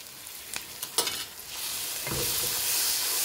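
Minced beef frying with a little ginger and garlic, a steady close sizzle that swells louder over a few seconds, with a couple of brief spoon or spatula knocks early on while the meat is stirred.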